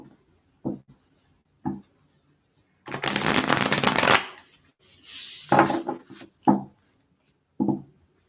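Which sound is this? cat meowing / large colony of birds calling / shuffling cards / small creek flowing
shuffling cards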